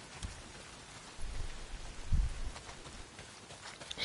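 Steady heavy rain in the Days Gone video game, a soft continuous downpour hiss with low rumbling swells partway through, moderately quiet and with no talking.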